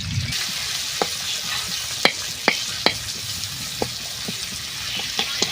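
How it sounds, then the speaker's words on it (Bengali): Onions frying in oil with panch phoron, a steady hiss of sizzling broken by several sharp taps of a utensil against the pan at irregular intervals, close and fairly loud, with no voices. "অল্প পেঁয়াজ দিলাম, একটু ভালো করে পেঁয়াজটাকে ভেজে নেব।"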